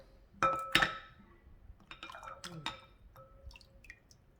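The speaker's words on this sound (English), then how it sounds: "Let's do the water drop." Several water drops patter and tap onto a phone's screen protector up close, a few sharp splashes followed by lighter scattered drips.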